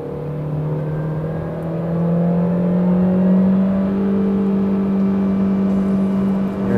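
A Honda Civic engine held at a steady high 6,000 RPM while accelerating, a constant loud droning whir heard from inside the car, with no talking.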